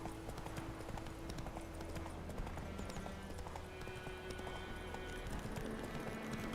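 The horse Roach clip-clops along in The Witcher 3, a fast, steady run of hoofbeats under a soft game music drone, with no talking.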